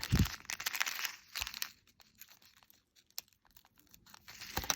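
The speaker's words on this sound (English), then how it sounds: "with your scissors, just cut off your excess tape" Scissors give crisp snips and crinkling as they cut excess tape while making a shaker card, a couple of sharp bursts at the start and end with quiet rustling between.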